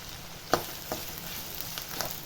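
Chopped big onions sauté in hot oil in a pan, a soft continuous sizzle broken by a few light stirring knocks, heard up close with no one speaking.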